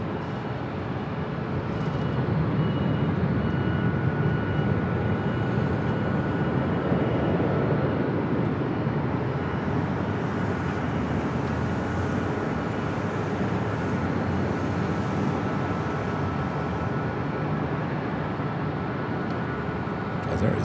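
A Delta Airlines Boeing 767-300ER jet at LAX, a loud, broad, steady engine roar that holds without a break, heard at a distance in open air.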